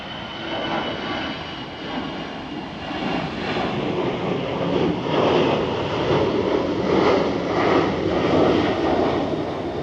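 An EasyJet airliner flies overhead near Gatwick and sends out a loud, steady jet engine roar that swells slowly and stays heavy throughout, with no voices over it.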